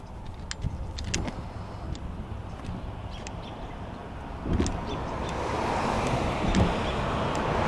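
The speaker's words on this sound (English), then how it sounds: "There's too many cars, you can't even hear me speak to you." Steady road noise from passing cars, a continuous broadband rumble that swells as vehicles go by, with occasional faint clinks in the foreground.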